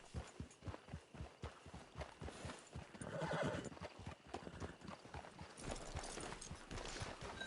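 Horse in Red Dead Redemption 2 clip-clopping with a steady run of hoofbeats, then a whinny midway, moderately close with no talk over it.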